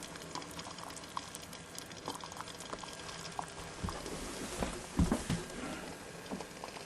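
Water at a rolling boil in a small pot on a Blackfly 2 alcohol stove, a steady bubbling hiss with dense patter that swells toward the end, close and fairly quiet with no talk.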